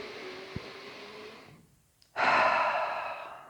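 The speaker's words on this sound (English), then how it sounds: "Let's take one cleansing breath here." A deep cleansing breath during a yoga class, with a slow, airy inhale followed by a brief pause and then a strong, loud exhale that gradually fades, close by and with no talking.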